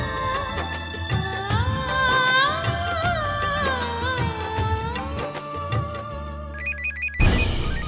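A melodic electronic ringtone plays loudly and continuously, its tune repeating, before cutting off abruptly into a brief burst of noise.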